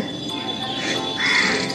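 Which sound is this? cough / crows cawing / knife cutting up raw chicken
crows cawing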